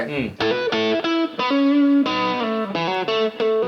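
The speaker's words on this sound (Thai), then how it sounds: "แต่พอโซโล่อะเราเพิ่มเสียงแตกเข้าไปนิด" Electric guitar solo through a regular amp with added distortion and a booster, played over a beat: sustained, bending lead notes with a dense, gritty harmonic tone, loud and up front, with no talking.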